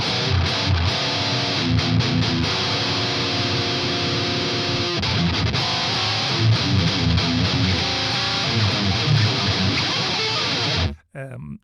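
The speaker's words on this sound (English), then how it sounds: "It's not possible to get more distortion, I think. And then you've got the turbo mode," A heavily distorted electric guitar, played through a Neural DSP Archetype Nolly style amp sim in turbo mode, roars in a dense, sustained wall of fuzzy metal tone, loud and steady, then cuts off abruptly near the end.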